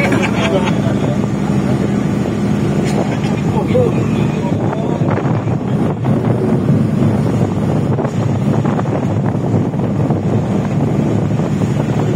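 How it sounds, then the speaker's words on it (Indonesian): Sea waves wash and roar behind a passenger boat entering Kuala Singkil as it rolls in the swell, a steady loud rush mixed with engine drone and heavy wind buffeting the microphone. "Itu ombak di belakang."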